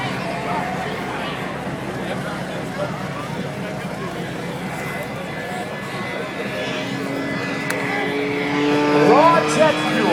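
Smoking Thunder jet car with a J34 jet engine at an air show gives a loud, steady, roaring rumble that builds and rises in pitch toward the end, with a voice talking over it.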